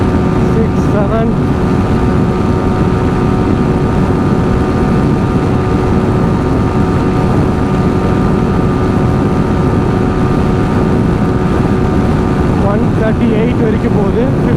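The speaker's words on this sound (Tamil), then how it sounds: "ஃபிஃப்த்து கியரில் விண்ட் பிளாஸ்ட் ஓவராக இருக்குது" A Yamaha R15 V4 motorcycle at top speed in fifth gear, with a continuous roaring wind blast and steady engine drone filling the whole stretch, loud and close, with a faint voice at moments.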